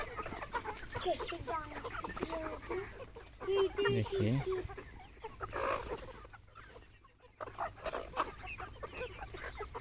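Several Sonali desi chickens cluck and chatter nearby in a busy farmyard, pecking at grain, while someone talks over them.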